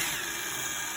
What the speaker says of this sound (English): I can still use the drill